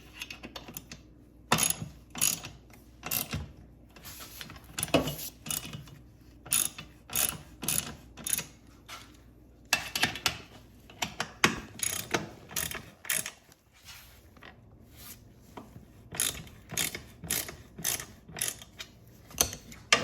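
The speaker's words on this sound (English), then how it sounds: "I'm gonna re-secure my fasteners." Fasteners on the yoke of a Minn Kota trolling motor are tightened with a ratchet, giving close, rapid bursts of clicking in repeated short runs separated by brief pauses.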